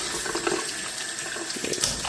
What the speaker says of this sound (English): Just give that a good rinse.